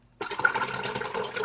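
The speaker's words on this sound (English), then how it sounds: "Now it splashes like crazy when I do this." Liquid pours and splashes steadily into a pot while making cheese, starting abruptly and continuing as a close, rushing wash of sound without talk.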